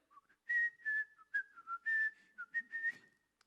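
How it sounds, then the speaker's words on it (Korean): A person whistles a cheerful, bouncy tune in short clear phrases, close and alone with nothing else in the background. "휘파람이 절로 나는데?"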